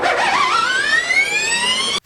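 A Formula E electric race car passes close by, its high, whining electric drivetrain tone rising steadily in pitch for about two seconds before cutting off abruptly.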